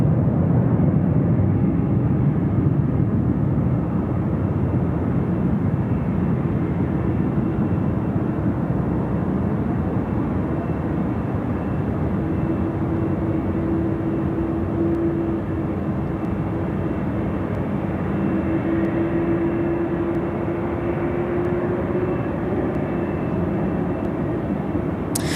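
A Qantas Airbus A321 freighter departs Sydney Airport at night, its engines a loud, steady broadband roar that holds throughout, with a faint tonal whine rising toward the end.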